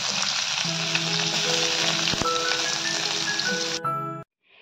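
Garlic, green chili and ginger sizzle in hot oil with a steady, dense crackle close by, running unbroken before cutting off abruptly near the end.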